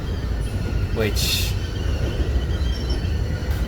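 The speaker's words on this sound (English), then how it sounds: "I guess the train the air brakes were on, and apparently one of these cars was squealing" A freight train car on the CPKC Heavener Subdivision rolls past with its air brakes on, giving a steady high-pitched squeal over loud, close wheel rumble, with one brief sharper screech partway through and a voice speaking briefly.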